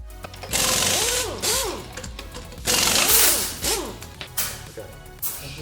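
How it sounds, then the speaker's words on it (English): Axle being tightened down on an Onyx RCR 80V electric motorbike, heard as a few bursts of whirring, rising and falling mechanical whine with short pauses between them, close and fairly loud. "All right, and we'll tighten that down."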